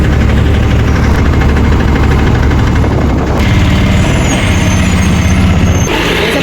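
An auto rickshaw engine drones loudly and close up while riding, a constant rough low rumble with rattling vibration, briefly shifting in pitch near the end.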